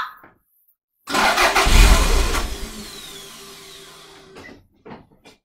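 A Toyota MR2 engine cranks and catches with a loud burst, idles briefly with a steady rumble, then stalls and dies away, followed by a couple of faint clicks.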